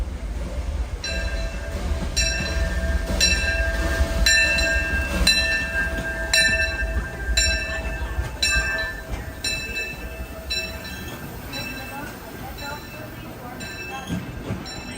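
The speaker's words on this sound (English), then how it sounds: "There's a train. I could hear it, but it's coming in." A train pulling into a station, a steady rumbling roll with repeated bright metallic tones and squeals over about fifteen seconds, moderately loud, with crowd chatter and voices in the background.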